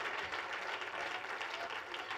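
Faint, continuous applause from a church congregation, heard from a distance as a soft steady patter.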